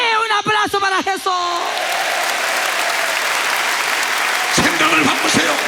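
Audience applause fills a church service, a sustained loud clatter of clapping from the congregation, with a preacher's voice speaking over it at the start and again near the end.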